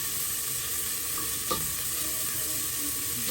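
Crushed garlic sautéing in a pan for tinolang tahong, a steady faint sizzle throughout with one brief scrape of a utensil near the middle.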